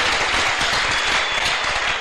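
A church congregation applauding in praise of God: thick, continuous clapping from many hands, loud and even throughout the short stretch, with no voices standing out.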